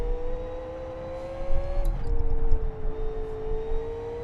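A Champ Car engine in the Live for Speed racing sim on Westhill International Circuit, droning at a steady high pitch, dipping briefly with a gear change near the middle before holding on again, loud and close, with no talk.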